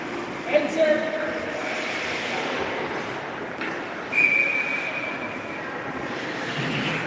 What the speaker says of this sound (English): Whistle goes.